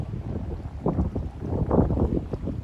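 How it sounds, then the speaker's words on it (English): Strong wind gusting at sea around a moored yacht off the Pontine Islands or Sardinia in the Mediterranean, a steady close rumbling roar of wind on the microphone that rises and falls in gusts, with no talking. "as the winds picked up this afternoon"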